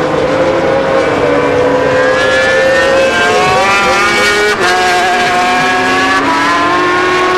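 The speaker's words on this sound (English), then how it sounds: "when you get a good ear track of the bikes, you can actually hear the wheel spinning coming out of the corners" 500cc Grand Prix motorcycles race at a 1990 Italian circuit, high-pitched engines screaming and rising in pitch as they accelerate out of corners, loud and continuous with overlapping bikes and changing revs.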